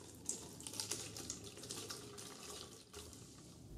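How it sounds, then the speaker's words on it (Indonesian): Boiled drinking water running from a tap to rinse food in a sink, a steady splashing flow, fairly quiet, with a few small clinks over it. "Selanjutnya bilas menggunakan air matang atau air minum"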